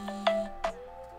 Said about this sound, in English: Sorry guys, I was getting a phone call.